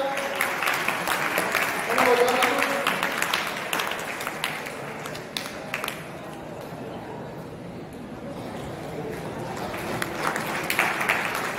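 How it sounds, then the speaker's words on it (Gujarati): Audience clapping at a school prize-giving ceremony, a steady crowd applause that runs the whole stretch, swelling early and again near the end, with a brief quieter dip in the middle. "આપણે જોરદાર તાળી પાડીએ"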